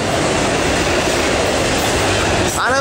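A long Norfolk Southern autorack freight train rolls past at close range, making a steady, loud rumble with wheel clatter throughout. A voice briefly cuts in near the end.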